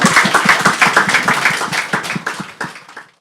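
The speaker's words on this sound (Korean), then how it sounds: "노무사님들한테 큰 박수 좀 부탁드릴게요." An audience at a 2019 labor-respect talk and concert in Korea applauds certified labor attorneys, with dense, close clapping that swells and then tapers off over about three seconds.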